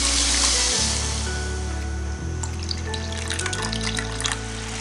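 Water pours steadily into a pan of sugar on a medium flame, making a rushing, splashing stream that fades into trickles and scattered drips.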